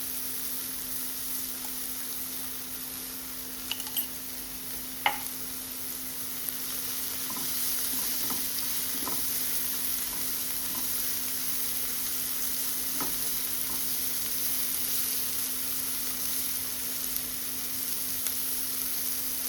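Tomatoes fry softly in a pan, a steady moderate sizzle with occasional sharp spoon clicks and scrapes scattered through, heard close with a low constant hum beneath.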